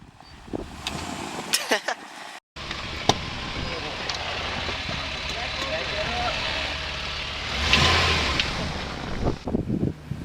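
A car backs up over a Tippmann paintball marker outdoors, its engine running steadily near the microphone with a short dropout and a swell of noise toward the end, while people talk throughout.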